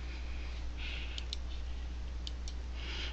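A computer mouse gives a few crisp, quiet clicks, a pair near the middle and another pair later, close up over a steady low hum and faint hiss, with no talking.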